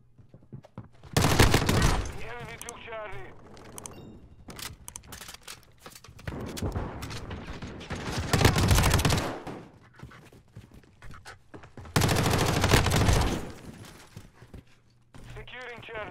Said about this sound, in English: I'm using the MP5